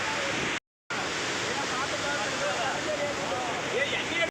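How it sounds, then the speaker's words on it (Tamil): Athirappilly waterfall in full flow gives a loud, steady broadband roar of rushing water that drops out briefly near the start, then resumes unchanged. "இந்த டைம் பாருங்க பயங்கரமாக தண்ணி."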